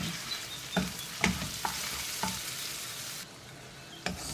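Ground pork fries in a pan with a close, steady sizzle, broken by several sharp scraping stirs and clinks, and no talk.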